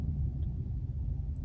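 Loud trucks drive through a Walmart parking lot at night, heard as a low, steady rumble of heavy engines nearby with no voices.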